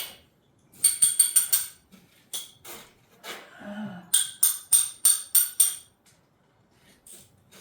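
Ratcheting wrench clicking in quick bursts of rapid ticks, close and fairly loud, while removing the driver side fender from a 1952 Ford F3 truck, with short pauses between strokes.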